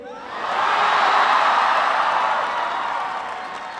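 A crowd applauds and cheers loudly, a steady wash of clapping that swells quickly and then slowly eases off.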